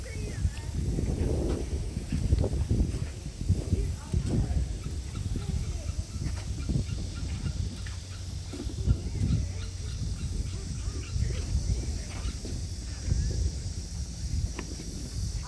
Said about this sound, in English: We have a bird squawking out there.